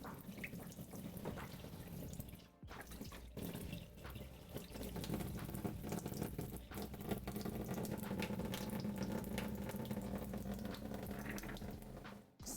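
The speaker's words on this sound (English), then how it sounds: "Sounds so funny. The water draining out." Water running and gurgling down a kitchen sink drain during falafel bowl and chickpea prep, a steady rushing flow with bubbling swirls that stays even and close for several seconds.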